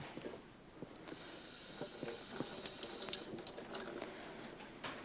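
Tap water running into a kitchen sink while a container is rinsed, a steady soft splash and hiss with small clinks and rubbing as it is turned under the stream, fairly quiet and close, with no voices.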